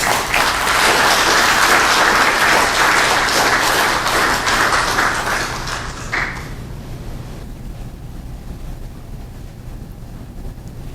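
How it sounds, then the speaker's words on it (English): Loud, dense audience applause greeting a lecturer before a talk on the Korean shaman world, sustained for about six seconds and then fading quickly into quiet room noise. "I suggest to give her the heartiest welcome by a big applause"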